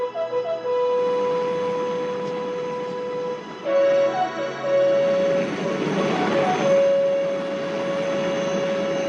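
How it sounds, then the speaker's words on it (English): Harold the helicopter from the Thomas animated series flying, a sustained engine whine and drone under steady musical tones that shift pitch partway through. "Send Harold the helicopter to pick her up immediately."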